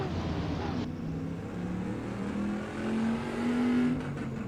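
A DeLorean driven in the racing game Assetto Corsa at Brands Hatch Indy, a steady engine drone rising slightly in pitch as it revs, with faint background noise and no speech.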